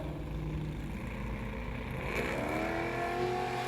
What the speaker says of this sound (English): Shannon Campbell, 3-time king, launching for the line